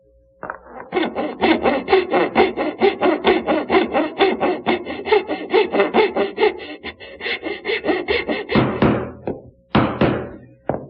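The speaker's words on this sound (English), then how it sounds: "I can take my side piece and mark it out to cut the tails" A hand saw cuts dovetail tails in a wooden side piece, with a long run of quick, even back-and-forth strokes close to the microphone, then a few slower final strokes and a knock.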